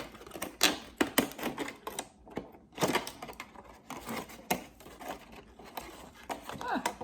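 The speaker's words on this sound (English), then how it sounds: "I'm just gonna cut this in 4s so that I have room to do a couple of leaf necklaces" Close, dense crunching and clicking as plastic slices are cut into four pieces for leaf necklaces, a steady run of sharp snips and crinkles lasting throughout.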